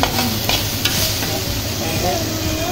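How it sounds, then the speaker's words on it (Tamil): Cabbage poriyal with grated coconut being stirred in a pan, giving a loud, continuous close-up sizzle broken by a few sharp spoon scrapes. "தேங்காய் சேர்த்து நல்லா கிண்டி வச்சு"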